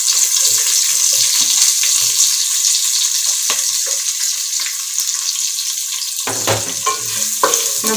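Curry leaves and chopped onion fry in a pan for egg biryani, a loud, steady sizzle with occasional stirring scrapes and a burst of crackling partway through.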